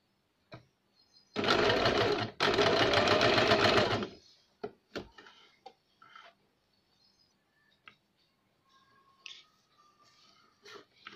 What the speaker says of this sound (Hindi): हम इन्हें इस तरह रख के इनके ऊपर सिलाई लगाएंगे